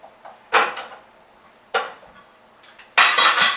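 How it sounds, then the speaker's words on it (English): Yams are dropped into a steamer pot in a few sharp clattering knocks of metal and lid, each clank decaying quickly, ending in a busier rattle. "I'm just going to put the yams in the steamer. Just throw that in right in there."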